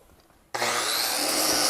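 Grinding metal U-bolt brackets off a front suspension upper mount bridge. After a half-second of quiet, a loud, steady abrasive whine starts abruptly and holds close and continuous to the end, with no talking.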